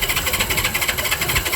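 Vintage barn-find motorcycle engine cranking over on its electric starter, a fast steady rhythmic churn at close range with no voices.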